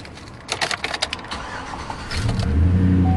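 A 2007 Chevy Silverado 1500 with Flowmaster exhaust starts with a brief crank of clicks and whirs. The engine then catches into a deep, rumbling idle that swells up close.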